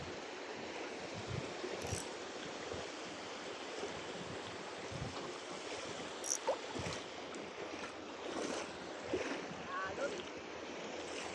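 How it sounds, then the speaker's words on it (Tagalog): Rough sea water washes and churns steadily around a small fishing boat, a broad continuous rush with occasional splashes and knocks, moderately distant, with faint voices now and then. "Maalon talaga yan."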